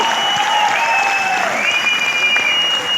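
Loud, steady applause from a large audience at a Modicare meeting, a close wash of clapping with cheers and whistles riding on top.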